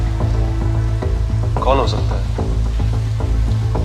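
Heavy night rain pours steadily with a hissing, sizzling patter, continuous and close, while someone speaks over it.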